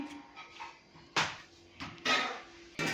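Several sharp clinks and clatters of dishes and metal utensils knocking together nearby, coming in irregular bursts over a faint steady hum.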